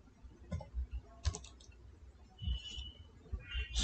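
Light typing on a computer keyboard: a few short bursts of quiet clicking keystrokes with pauses between, close and alone.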